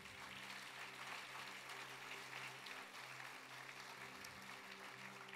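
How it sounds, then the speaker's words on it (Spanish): Applause from a congregation during a Spanish-language church service, steady and continuous throughout, moderately loud and filling the room with no talking over it. "Denle un aplauso fuerte a Jesús."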